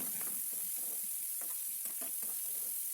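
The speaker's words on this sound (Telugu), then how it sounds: "ఉల్లిగడ్డ మంచి గోల్డెన్ బ్రౌన్ వచ్చే వరకు వేయించుకోవాలండి" Chopped onions frying with half a teaspoon of mustard seeds in hot oil, a constant hiss with scattered spatters and soft stirring scrapes, close and even, with no voices.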